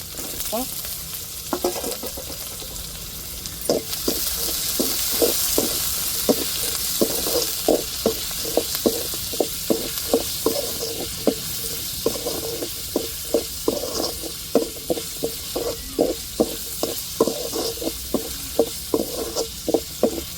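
Onions and green chillies frying in a pan for a chicken dish, a constant sizzling hiss broken by a long run of regular, close scraping stirs that tick along steadily to the end.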